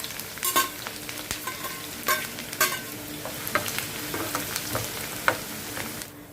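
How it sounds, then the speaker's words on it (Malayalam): Garlic, ginger and green chillies hitting hot oil after mustard seeds splutter, for a lemon-dates pickle; soft continuous sizzle with scattered sharp pops and crackles, close and fairly quiet, no talking. "കടുക് പൊട്ടി വന്നു കഴിഞ്ഞാൽ നമുക്കിതൊക്കെ ഇട്ട് കൊടുക്കാം"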